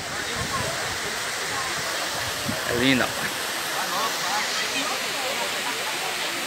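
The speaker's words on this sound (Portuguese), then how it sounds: "É a cachoeira aí, ó. Chama Poço de Deus ou Poço do Diabo." The waterfall at Poço de Deus, also called Poço do Diabo, in Chapada Diamantina, roars as a steady, full rushing hiss of falling water close by, with a brief spoken voice partway through.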